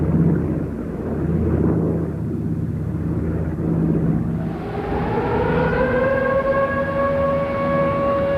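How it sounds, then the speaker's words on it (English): An all-clear civil defense siren sounding over Hiroshima in 1945, its wail rising after a few seconds of rumbling background noise and then holding a steady, loud, sustained tone. "The all-clear sounds over the city of Hiroshima"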